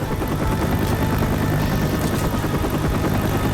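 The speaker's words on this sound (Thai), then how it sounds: "โอเคได้ยินเสียงคอปเตอร์" Rapid chopping rotor thump of a helicopter in the video game Left 4 Dead, steady and fairly loud, filling the whole short stretch without any talking.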